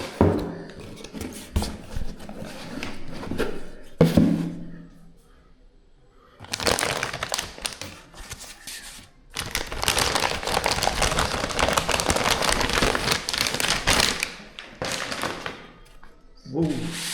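A boxed AMD Radeon RX 9060 XT Steel Legend 16GB graphics card is unpacked, with loud rustling, crinkling packaging, thumps and taps in uneven bursts separated by quiet gaps.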